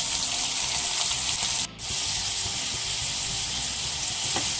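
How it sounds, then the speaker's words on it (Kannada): Finely chopped onions go into hot oil with already-spluttered mustard seeds, giving a loud, continuous close sizzle that dips briefly for a moment before resuming at full strength. "ಈಗ 2 ಮೀಡಿಯಮ್ ಸೈಜ್ ಈರುಳ್ಳಿನ ಸಣ್ಣದಾಗಿ ಹಚ್ಚಿಟ್ಕೊಂಡಿದ್ದೀನಿ. ಅದನ್ನು ಹಾಕ್ತಾಯಿದ್ದೀನಿ."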